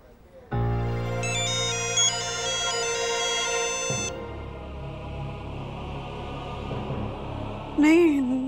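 A melodic electronic phone ringtone plays loudly for a few seconds, then stops; muffled background noise and a brief rising chirp follow.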